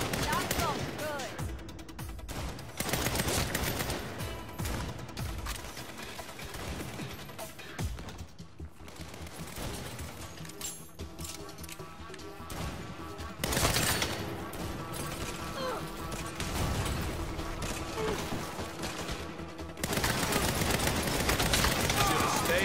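Heavy gunfire in the Saints Row video game, dense bursts and rapid volleys of shots, loud and nearly continuous for over twenty seconds, with crashes and voices mixed in.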